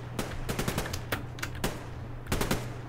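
Machine-gun fire in the online shooter Survarium, heard as several rapid bursts of broadband shots over a steady low engine-like hum, close and fairly loud, with a final burst near the end.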